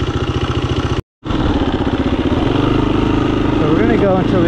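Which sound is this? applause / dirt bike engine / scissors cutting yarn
dirt bike engine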